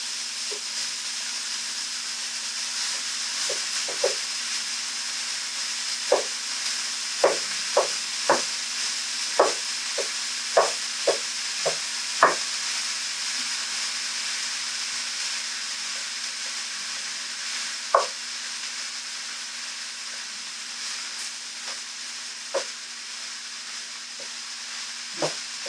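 Vegan meat frying in a pan for tacos: a steady soft sizzle and hiss with scattered small crackles and pops, fairly faint and close, with a constant low hum underneath.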